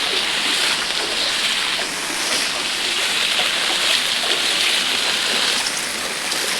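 Heavy rain pours down steadily in Ramayampet, Medak district, a dense, continuous roar of falling water that stays loud and unbroken throughout, with no voices.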